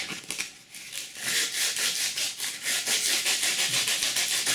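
Sandpaper rubs back and forth on a wooden Native American flute in quick, steady rasping strokes, close and continuous, with no voices.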